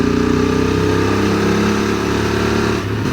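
Motorcycle engine pulling steadily in third gear through a hairpin on the Col d'Aspin–Peyresourde climb in the Pyrenees, a loud, even drone with harmonic layers that holds throughout and dips slightly near the end.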